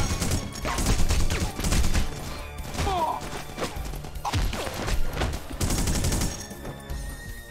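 Gunfire in The Punisher video game comes in repeated bursts and single cracks with crashing impacts, loud and close, along with mechanical clatter between volleys.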